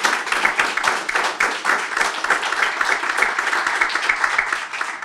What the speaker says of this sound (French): vous donner une bonne main d'applaudissements